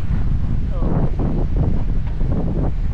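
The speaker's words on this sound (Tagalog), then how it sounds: "Lakas ang hangin." Strong wind buffets the microphone while riding a motorcycle on a highway, a constant rumbling roar with gusty surges throughout.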